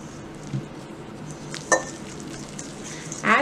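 Icing sugar is mixed by hand into egg yolks in a bowl for pancake batter, making soft wet stirring with a few sharp clinks of the beater against the bowl, one louder near the end.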